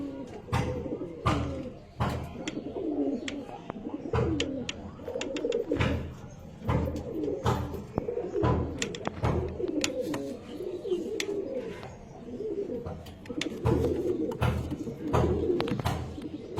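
Andha Fulshira pigeons coo repeatedly nearby in a low, rolling throaty chorus, punctuated by sharp wing flaps or perch knocks throughout.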